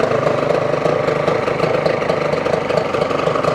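Yamaha TZR 250 two-stroke motorcycle engine running steadily right after a first-kick start, a loud, close, buzzing idle with a fast, continuous rhythm and no talk.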